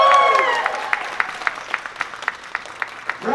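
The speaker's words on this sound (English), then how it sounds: "Round of applause for Ant-Man" An audience at a comic con roast event at Indiana Comic Con claps for Ant-Man; a voice fades out at the start, then a thin, sparse rhythm of individual claps follows at a steady pace, fairly close.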